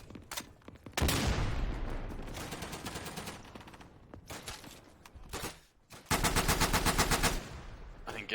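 Automatic fire from Bren and Lewis light machine guns in the World War II shooter Day of Infamy: several loud sustained bursts of rapid rattling shots, separated by short gaps, with no talking.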